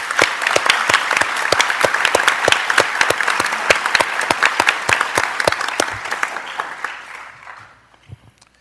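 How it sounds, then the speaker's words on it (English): A board meeting audience gives a round of applause for high school phlebotomy students after their demonstration. Close, crisp individual claps form a dense burst that thins out and fades away near the end. "Let's give them a round of applause, if you will."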